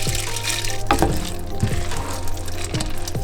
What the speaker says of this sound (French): je vais ajouter du bouillon petit à petit